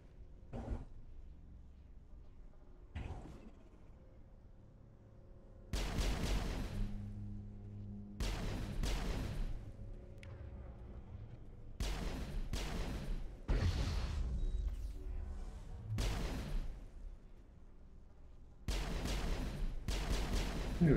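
Grenade blasts and gunfire in Mass Effect: loud, booming bursts and volleys of shots arrive in heavy clusters, separated by quieter stretches with isolated distant pops.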